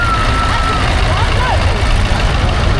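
An American Massey tractor fitted with a Cummins engine idles in the arena at a tractor festival, a steady, loud, close rumble with faint voices mixed in.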